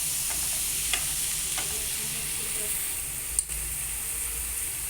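Chopped tomatoes with onion and turmeric sautéing in a pan for tomato chutney, giving a steady soft sizzle throughout with a few faint stirring clicks and one brief knock near the end.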